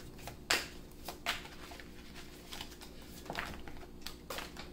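Tarot cards are shuffled and drawn from a deck, giving faint close riffles and sharp snapping flicks spaced irregularly, with no talk.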